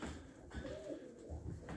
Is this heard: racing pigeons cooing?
yes